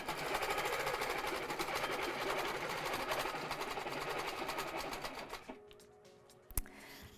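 Longarm quilting sewing machine fitted with a ruler foot runs steadily as it stitches a wave pattern, a dense continuous mechanical hum that stops near the end, followed by a brief click.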